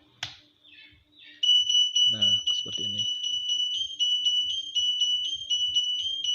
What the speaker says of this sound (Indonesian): Jadi alarmnya ini berbunyi ketika kipas blower ini padam listrik.